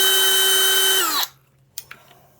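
A DeWalt DCD996 brushless 1/2-inch hammer drill whines loudly at speed for about a second, then spins down abruptly into near silence, followed by a couple of faint clicks and light handling noises.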